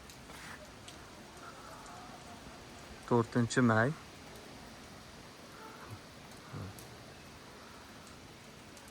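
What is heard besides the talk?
rain falling outdoors at a dacha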